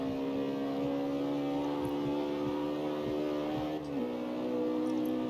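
A high-revving Mustang engine drones steadily in the CarX Street racing game, holding a loud sustained pitch before dipping briefly and climbing again, with no voices.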